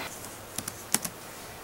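A few soft, quiet keystrokes on a computer keyboard, four or five light taps spaced within about half a second.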